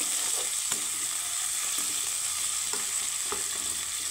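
Chopped tomato fries with onion in a hot pan, giving a loud, steady sizzle. Occasional stirring scrapes and soft knocks sit on top of the sizzle, and no one talks.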